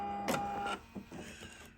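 Sewing machine running a couple of short back stitches at the end of a seam on a mermaid tail blanket: a brief close mechanical whir, a pause, then a second softer burst of stitching.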